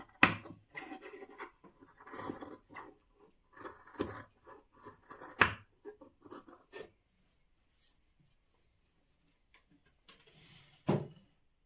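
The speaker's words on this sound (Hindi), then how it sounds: "अब हमारे इस पेटीकोट के एक्स्ट्रा कपड़े को हमने काट के हटा दिया है" Scissors cut away extra petticoat cloth in a series of quiet, irregular rasping snips. They stop for a few seconds, then a final short burst of cutting follows.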